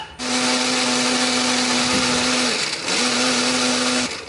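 Electric blender grinding shallots, garlic, ginger, turmeric and spices with a little water or oil added: a loud, steady, close whirring drone that briefly dips about halfway through, then resumes.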